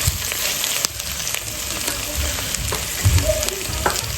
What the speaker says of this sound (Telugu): బెండకాయలు వేగాయండి.